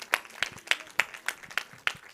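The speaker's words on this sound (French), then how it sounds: "On peut largement applaudir." Scattered clapping at a water education conference, a few distinct claps in an uneven rhythm rather than a full audience ovation, fairly faint and close.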